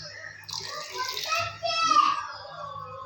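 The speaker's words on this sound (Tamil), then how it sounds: "இப்போ இந்த ஸ்டேஜில் நம்ம கொஞ்சம் தண்ணி சேர்த்துக்கலாம்." Water splashes and pours into a pot of mushroom gravy in two short bursts, close by, with a voice faintly in the background.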